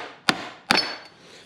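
A hammer knocks a part out of a high-inertia mulcher onto a pair of 2x4s, giving two sharp, close metallic strikes about half a second apart, each with a brief ringing decay.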